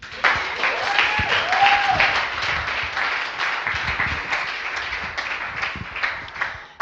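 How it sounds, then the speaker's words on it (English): Audience applause at an evening demo-day celebration for a coding bootcamp batch, a steady wash of many hands clapping that holds for several seconds and slowly thins, with faint voices mixed in. "I feel like that deserves an applause."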